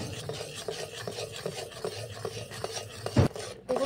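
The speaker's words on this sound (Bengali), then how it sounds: "ভালো করে মিশিয়ে নিচ্ছি" A spoon stirs Amul milk into a watermelon dessert mixture in a pot, giving steady rhythmic scraping and rubbing strokes, close and alone, with one louder knock near the end.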